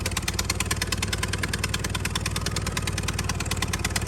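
An Oliver Super 55 tractor driving in second gear with its engine running steadily, a loud, close, rhythmic chugging with even exhaust pulses and no speech.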